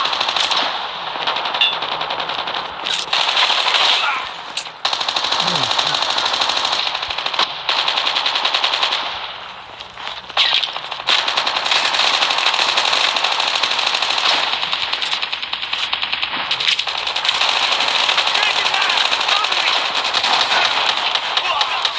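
Sustained automatic gunfire from a video game shooter, dense rapid bursts filling the whole stretch with only brief dips, loud and continuous.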